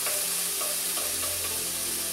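Beef gravy cooking over high heat in a pan, heard as a dense, even bubbling and sizzling hiss that stays close and steady throughout, with no talk.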